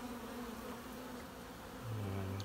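Honeybees buzz at an open hive, a close, continuous droning hum that wavers in pitch, with a deeper, louder buzz swelling in near the end, and no talking.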